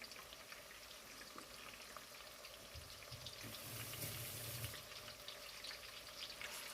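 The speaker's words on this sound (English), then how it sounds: "I'll be adding my onion to the oil. And my fresh thyme." Onion and fresh thyme fry in hot oil, a steady moderate sizzle throughout that swells a little louder midway, with no voices.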